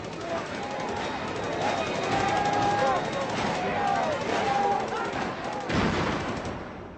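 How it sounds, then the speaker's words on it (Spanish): Pistol gunshots ring out during a large street brawl between police and demonstrators, sharp reports in a loud, dense burst over crowd noise, with a further blast near the end. "Al final, los disparos de pistola consiguieron dispersar a la multitud."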